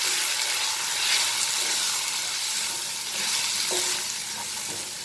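Gram flour roasting with tomatoes in a pan for Amritsari paneer bhurji gives a steady, close sizzle and frying hiss, with faint stirring scrapes near the end and no voices.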